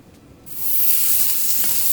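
Butter hits a hot cast-iron sizzler plate for an Indo-Chinese chicken sizzler. After a quiet start it bursts into a loud, steady hissing sizzle that fills the rest of the moment.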